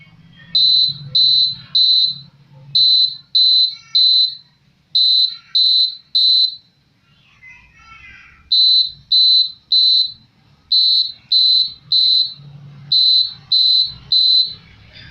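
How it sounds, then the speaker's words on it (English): A laser security alarm, set off when a beam is crossed, beeps loudly and rapidly, electronic tones in quick bursts of three or four, with a short pause midway and a faint low hum beneath. "whenever someone or a thief tries to cross the laser lines, the alarm rings"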